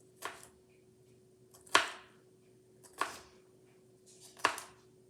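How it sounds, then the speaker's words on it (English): Sharp knife chops of julienned vegetables being diced on a small cutting board, four distinct strikes spaced over about a second each, close and crisp against a quiet background. "take the juliennes in a little bunch, kind of straighten them up, and then do small dices"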